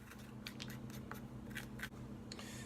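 A knife slices a butternut squash down the center in a quiet kitchen, giving a few soft crunching, scraping cuts close by.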